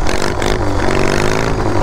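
A modified lawn mower engine built for high speed, with a too-loose belt, revs loud and screaming close by, a dense continuous roar with rattling clatter and no talk.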